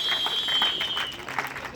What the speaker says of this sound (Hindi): जोरदार तालियों के साथ अभिनंदन